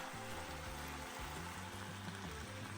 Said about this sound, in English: fry them off in a little bit of oil for a few minutes